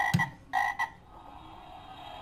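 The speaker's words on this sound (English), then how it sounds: "Frog." A frog croaks three times in quick succession, close and clear, followed by quiet background hiss.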